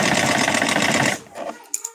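A sewing machine stitches in a rapid, steady mechanical whir for just over a second, then stops, leaving a few faint clicks and handling taps close by.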